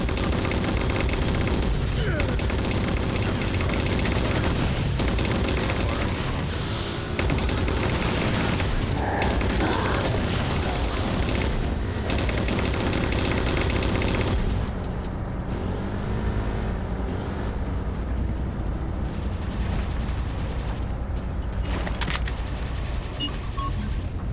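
Heavy, continuous gunfire and explosions from the Halo 4 video game during a railgun fight against Phantom dropships, a loud, dense barrage with rumbling vehicle noise throughout that thins out partway through.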